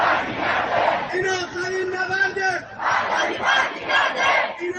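A large protest crowd chanting in unison, loud rhythmic bursts of many voices repeating a slogan, with a short pause between chants.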